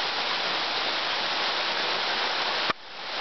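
Bonita Falls waterfall heard on a hike: a loud, steady rushing roar of falling water close by. It cuts off abruptly near the end, leaving a quieter wash of water.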